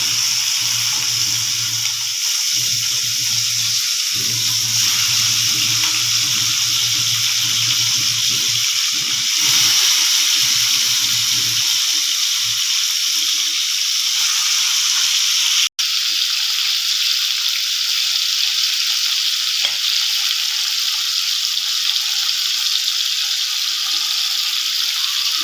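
Prawns fry in hot mustard oil with a steady, loud hiss and crackle that runs without a break, close to the pan, with no talking.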